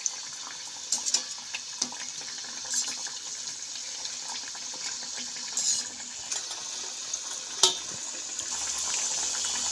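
Rice-flour snacks deep-fry in mustard oil with a continuous bright, bubbling sizzle, and occasional light clinks and taps sound close by.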